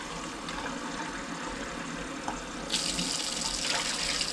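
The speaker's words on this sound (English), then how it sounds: "I'm just going to need to get myself 3 cups of water" Tap water runs to fill three cups for a shelf-stable prepper cheese, a steady rush that grows louder and brighter partway through as the flow increases.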